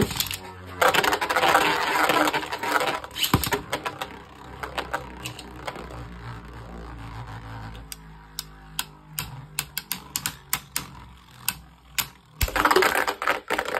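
Takara Tomy Kerbeus DX and Hasbro Balance Kerbeus Beyblade Burst tops clash in a stadium, a dense rattling scrape of spinning plastic and metal broken by sharp clicking collisions and scattered ticking impacts.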